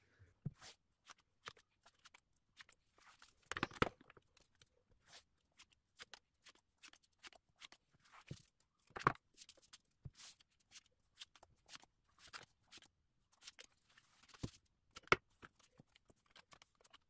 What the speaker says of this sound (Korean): 바로 카드 뽑아보도록 하겠습니다.